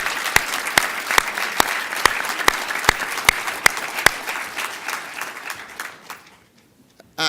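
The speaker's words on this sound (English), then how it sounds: "let's give ourselves a big round of applause" A conference audience of parents and attendees applauds together, a dense wash of clapping with a few sharp, louder claps standing out, holding steady for about six seconds before fading to quiet.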